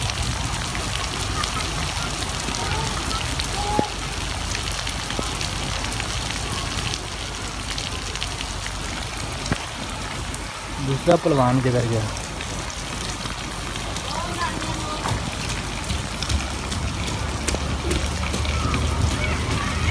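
Heavy rain falls steadily in extreme summer heat, a continuous broadband wash of drops on surfaces that stays even throughout, with a voice speaking briefly over it partway through.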